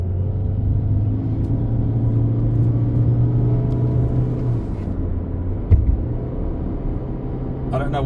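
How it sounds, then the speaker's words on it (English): A 2020 Toyota Corolla Hybrid Touring 4WD climbing a hill road, heard from inside as a steady low engine and road rumble with a faint hum and one brief knock. "I'm turning the music off so that we can just listen to the sound of the car."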